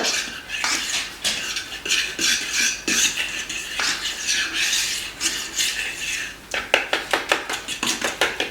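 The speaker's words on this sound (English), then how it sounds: "we're gonna whisk this together" Whisking a mixture with vanilla and cinnamon in a bowl gives continuous rapid scraping and clinking that is steady and close, with sharper quick strokes near the end and no voices.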